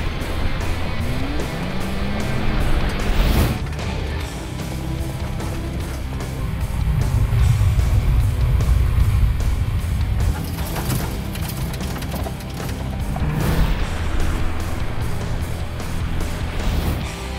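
Rallycross car engine roaring steadily with wheels spinning, rising in bursts and holding a loud, continuous drive, heard from moderately close with no talk.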